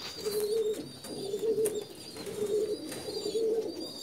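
Lal Pari breed pigeon cooing close by in repeated soft, low rolling coos, with faint chirps from other birds in the background.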